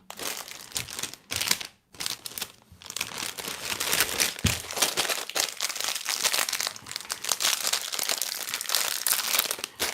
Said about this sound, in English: I used to open these bags with a pair of scissors and see now. Nah, just rip them open.